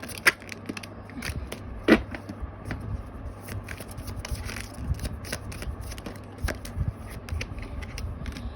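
Tarot cards shuffled by hand in a quiet room, a run of close, crisp riffles and soft slaps, with a few sharper card snaps standing out, steady throughout and no talking.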